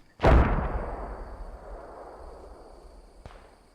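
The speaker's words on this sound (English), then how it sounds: "we hear mortars landing on the hill" A single heavy mortar shell lands on a hill in a wartime video game, a sharp close boom followed by a long rumbling decay, with a fainter distant thud near the end.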